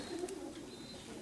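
Pigeons in a racing loft, adult birds of a Polish pigeon-racing team, give soft, low murmuring coos that run steadily throughout, fairly near, with faint chirps above.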